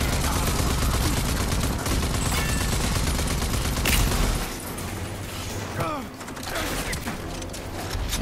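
Gunfire in the shooter game Rage 2: dense, loud bursts of automatic fire and blasts that hammer on continuously, then thin out slightly toward the end.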